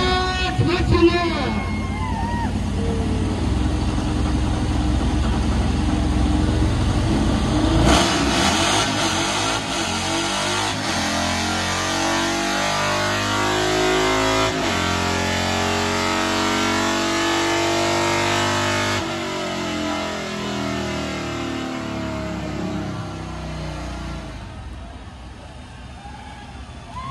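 Harley motorcycle at a dyno drag run on Route 66, the engine revving hard through several surging pulls and shifts, with crowd babble and voices underneath.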